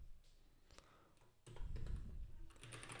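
Typing on a computer keyboard while entering git commands, a string of soft close clicks that grow busier and louder partway through.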